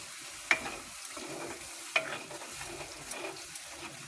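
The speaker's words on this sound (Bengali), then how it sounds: "এটা মশলাটা একটু কষিয়ে নেব।" A spice masala fries and gets stirred in a pan, with a soft sizzle and a few scraping spoon knocks, fairly close and quiet, no voices.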